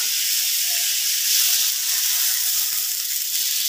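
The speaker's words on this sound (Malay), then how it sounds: "kita masukkan air. Nak buat dia kuah." A steady, broad hiss of water pouring continuously into a pot, even and unbroken from start to finish.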